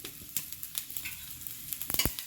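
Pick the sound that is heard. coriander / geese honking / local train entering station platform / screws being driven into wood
coriander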